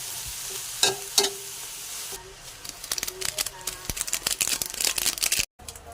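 Carrots and cabbage stir-fry in a pan with onion and garlic, giving a soft hiss with a few scrapes at first, then a busier run of sizzling and quick stirring clatter that cuts off briefly near the end.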